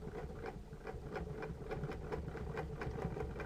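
A sewing machine runs while stitching fabric, producing a soft, even mechanical whir with a quick regular ticking pulse, close and fairly quiet, and no voices.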